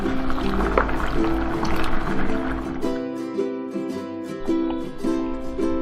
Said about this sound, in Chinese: 磨好的芝麻粉，我们给它加入1碗清水